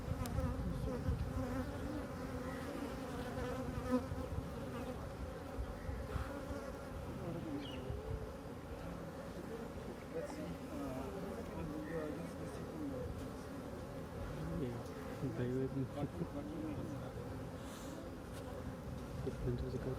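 Dense, steady buzzing of many honey bees at an open beehive during an apiculture demonstration, a continuous close hum with individual bees flitting past, lasting throughout.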